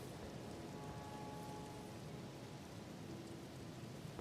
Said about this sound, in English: Lindell Rain doesn't make you wet under the Golden Order